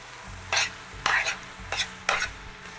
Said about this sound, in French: Alors vous ajoutez les tomates, vous remuez.